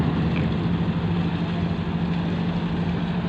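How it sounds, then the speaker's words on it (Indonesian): Churning water from a ship's bow thruster at Merak harbour, a steady dense wash of turbulence over a constant low engine hum, loud and close throughout with no talk. "Ini teman-teman lihat ombaknya, deburannya dari bot thrusternya."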